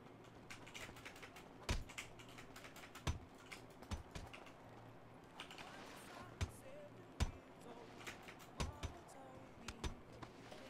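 Computer keyboard keys pressed during a GTA V gaming session: scattered sharp clicks and taps in uneven bursts, close but fairly quiet, over a low steady background hum.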